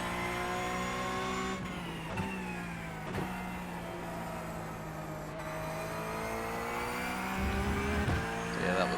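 Porsche Cup race car at Road America in a sim racing game, its engine droning steadily at high revs with gear changes and brief shifts in pitch across the lap, heard alone at moderate volume.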